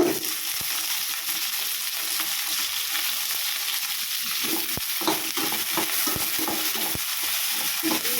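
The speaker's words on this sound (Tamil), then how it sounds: "கிளறி விட்டுக்கிட்டே இருங்க." Cut vegetables for sambar sizzle steadily in a hot pan while a spoon scrapes and stirs them in irregular strokes.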